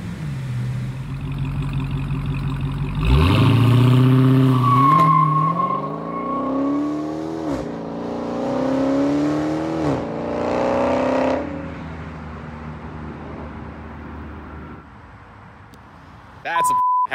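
A 2018 Dodge Charger Hellcat launches hard, its supercharged engine roaring up through rising gear pulls with tire noise for several seconds before easing off, loud and close, with a brief beep at the end.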